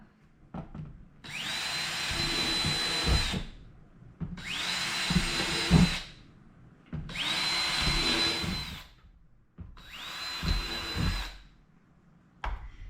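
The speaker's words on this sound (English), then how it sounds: "we're going to drill 4 holes on the bottom" A power drill whirs up and bores through a plastic lid four separate times, each burst lasting about two seconds with short pauses and handling clatter between.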